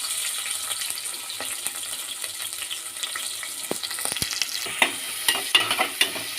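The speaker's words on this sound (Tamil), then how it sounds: "நல்லா வதக்கிக்கலாம்." Onions sauté in hot oil with fennel seeds in a pan, a steady crackling sizzle broken by a few sharper scraping taps of stirring toward the end; no one speaks.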